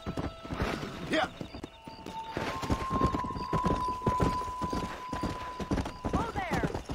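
Horse hooves clip-clopping at a gallop in the Red Dead Redemption video game, a steady drumming beat under spoken lines and game music, with a horse whinnying near the end.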